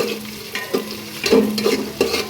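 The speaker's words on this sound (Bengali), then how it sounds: "পেঁয়াজ রসুনটা ভালো মতো সুন্দর মতো একটু লাল লাল করে নিব" Onion and garlic frying in a pan, a steady close sizzle with a few stirring scrapes and clinks at intervals, heard alone without talk.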